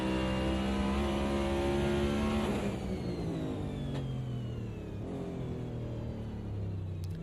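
Race car engine in a racing sim game at the Daytona road course, a loud, sustained rev that drops in pitch as it decelerates for braking, then holds a steady mid-range drone.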